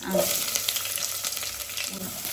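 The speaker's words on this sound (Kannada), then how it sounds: "ಸಾಸಿವೆ ಹಾಕಿದ್ದಾರೆ, ಚಟಪಟ ಅಂತ ಇದೆ." Mustard seeds crackle in hot peanut oil, tempering for a chili buttermilk saaru. A close, steady, dense sizzle runs throughout, scattered with small sharp pops and no voices.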